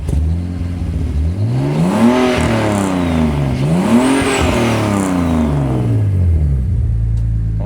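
A car engine revs hard through a shorter exhaust silencer, climbing and falling in two strong sweeps before settling into a loud, rumbling idle close to the microphone.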